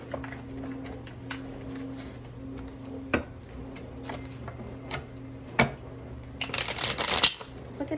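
A deck of tarot cards is shuffled by hand, with soft riffling and light taps through the clip and a denser, louder flurry of shuffling near the end; nobody speaks.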